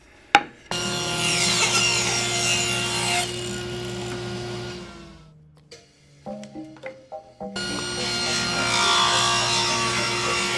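A hand saw rips a bevel along a 2.5-inch wooden piece for a 3D wooden Christmas tree, loud steady rasping strokes that break off into a few clicks and knocks before sawing resumes.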